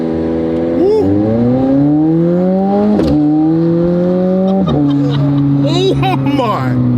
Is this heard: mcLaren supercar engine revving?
yes